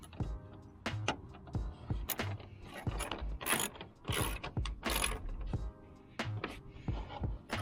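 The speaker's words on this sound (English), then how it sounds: "take your 10 millimeter socket, get your socket wrench, and tighten" A socket wrench ratchets repeatedly while tightening a 10 mm bolt on an engine bay side cover, loud and close, in several bursts of rapid clicking with short pauses between.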